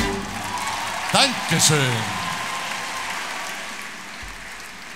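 Dancers at a Viennese ball, the Rudolfina-Redoute, clap for themselves, a soft wash of many hands heard at a distance under a voice speaking briefly over it.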